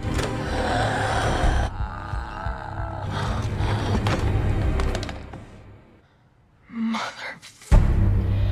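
Heavy, ragged panting and gasping breaths during an asthma attack in the 2020 thriller film Run, loud and close amid a dense mix of film sound, dropping to near silence before a sharp return.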